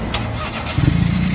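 A custom car's engine starts by remote control and settles into a low, steady idle, the catch arriving about halfway through the short span after quieter rumbling.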